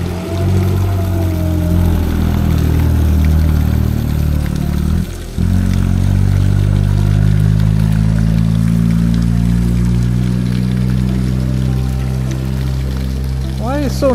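A truck rumbles past a riverside fishing spot in a steady, loud low drone that briefly dips and then swells again, with a rising tonal whine near the end.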